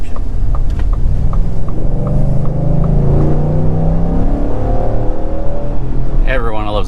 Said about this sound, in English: Everyone loves the sound of a 5-liter V8